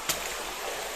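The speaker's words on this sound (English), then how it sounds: "the stream running down there, and it's pure water out of Salisbury Plain" Water runs in a stream at a 14th-century holy well structure, fed by pure water from Salisbury Plain. A steady, close rushing trickle lasts for about a second with no talking.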